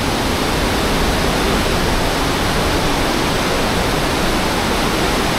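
Rushing water pours through Wawa Dam in a loud, constant roar, a dense and unchanging torrent close by, with no talk over it.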